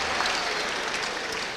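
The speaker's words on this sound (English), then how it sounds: "have a big round of applause there for Dean Gayther and Sergio Llancafilo" A crowd at a boxing event applauds after a Victorian super middleweight title fight, with a brief, dense wash of clapping at moderate distance.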